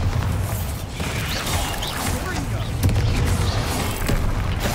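Booming spell blasts from a Bombarda explosion in Hogwarts Legacy, set against a steady din of battle with creaks and thuds. One heavier impact lands near the middle.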